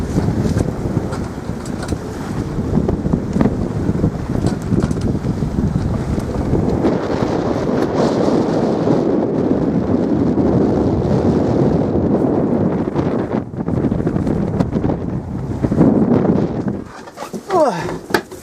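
Strong gusting wind and heavy rough seas aboard a small sailboat caught in a gale, a continuous loud roar of wind noise and water rushing across the whole stretch, dropping briefly near the end.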